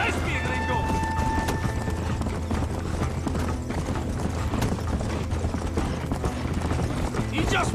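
In the Red Dead Redemption video game, a horse gallops with a fast, steady clip-clop of hooves and a brief neigh near the start, running continuously beneath voices.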